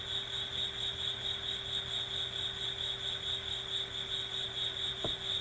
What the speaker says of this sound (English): The meditation object that this cricket is giving us.